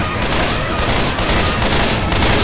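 Rapid, loud, continuous gunfire in the video game Left 4 Dead 2, dense overlapping shots filling the whole moment with no pause.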